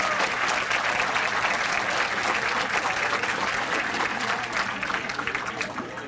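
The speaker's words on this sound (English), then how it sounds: "get a big round of applause for the staff of the Waterville Elks Club" A big round of applause for the Waterville Elks Club staff at a 2015 annual awards dinner, steady crowded clapping from a banquet room audience that holds strong throughout and eases slightly at the close.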